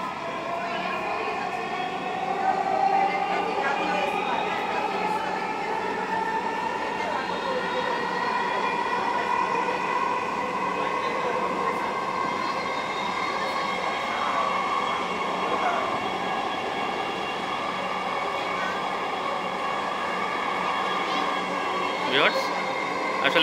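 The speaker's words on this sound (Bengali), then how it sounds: "মেট্রো যাত্রা করছে উত্তরার উদ্দেশ্যে, আমরা যাব মিরপুর 10" A Dhaka metro rail train runs from Agargaon toward Mirpur 10, heard from inside as a sustained electric motor whine that slowly rises and shifts in pitch over a steady rumbling hum, continuous and fairly loud throughout.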